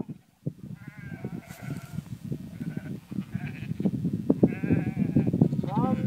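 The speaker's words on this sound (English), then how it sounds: "this guy is calling his sheep" Sheep bleat repeatedly, near and distinct, while a man calls out to the flock outdoors. His calls mix in with the wavering bleats and grow busier toward the end.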